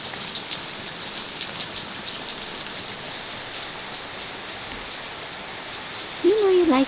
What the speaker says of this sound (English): We definitely didn't expect this much rain today